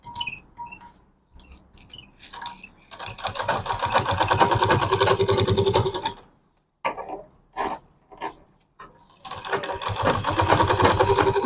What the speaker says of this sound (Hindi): ये देखिए यहाँ से हम सिलाई लगा देंगे।